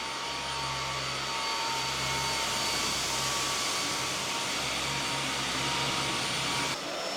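Bosch Unlimited 7 cordless vacuum cleaner running on its Turbo setting, a loud steady motor whine and airflow roar held throughout, with a brief dip near the end.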